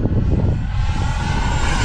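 A Freewing F-22 Raptor RC jet roars past on a high-speed pass in headwind, its steady loud engine whoosh filling the air with no talking.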